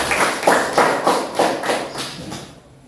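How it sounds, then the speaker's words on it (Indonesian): Classroom applause from students in an Indonesian school lesson: a short burst of rhythmic group clapping in about six even beats, moderately loud and close, fading out at the end. "Luar biasa, tepuk tangan dulu."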